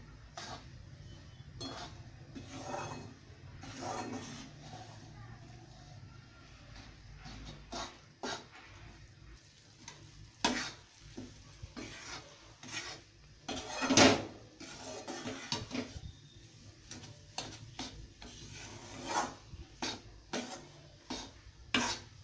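Wheat flour is stirred as it roasts in a pan over a medium gas flame for methi laddoos, with faint scraping and light clinks of the spoon against the pan at an irregular pace.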